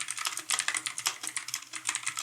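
Brisk clicky keystrokes from a Pictek tenkeyless mechanical keyboard fitted with blue-style switches, rattling along in a continuous close-miked stream of sharp clacks, no speech over them.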